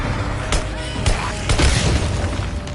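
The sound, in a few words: gunshots taking headshots in video game Days Gone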